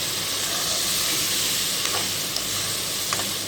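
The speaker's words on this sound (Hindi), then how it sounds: "इन मसालों को 1 से 2 मिनट हम भूनेंगे।" Dry spices and tomatoes fry in hot oil with a dense, even, loud sizzle and hiss, and a few faint clinks of stirring near the end.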